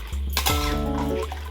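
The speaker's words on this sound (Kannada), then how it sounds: "ನೀರು ಬಿಸಿ ಮಾಡಿ ಇಟ್ಕೊಂಡಿದ್ದೀವಿ, ಅದನ್ನು ಹಾಕೊಳ್ಳೋಣ" Hot water poured from a vessel into a pot of chicken biryani, a steady splashing pour that starts abruptly and runs close and continuous for over a second.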